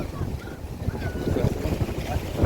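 Strong seaside wind at high tide buffets the microphone with loud, gusty low rumbling and roaring, continuous and close, with faint voices mixed in beneath it.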